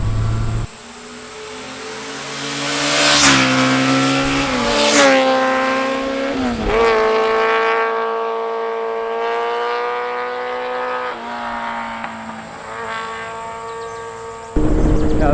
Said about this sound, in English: through this corner, for example, pop it in the sixth, and it is just happy as can be